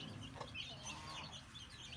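Chickens and chicks clucking steadily on an open poultry farm, a dense, continuous murmur of fowl calls with no talking.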